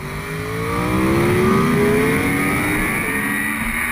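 Motorcycle engine at full throttle accelerating hard up through the gears on the Snetterton 300 race circuit, a loud, close, steady rising roar with climbing engine pitch and no talk.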